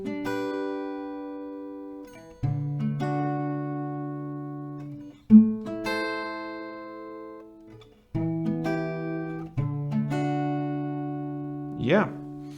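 Acoustic guitar strumming the chords of "Los Tragos" by Reik and Maria Becerra, clear and close, in a few sustained strummed phrases that ring out between new strokes, with no voice over it.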